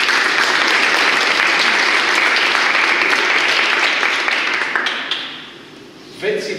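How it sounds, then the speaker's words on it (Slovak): A lecture audience applauds in a long, loud, sustained round of many hands clapping, steady for several seconds before thinning and fading out near the end. "Potlesk."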